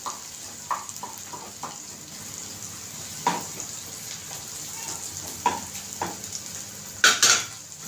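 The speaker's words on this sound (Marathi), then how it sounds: "आपल्याला मसाला आपल्याला परतून घ्यायचा आहे" Malvani masala with turmeric sautéing in a pan for a drumstick and potato curry: a faint, steady sizzle broken by scattered spatula clicks and scrapes, with a couple of louder knocks near the end.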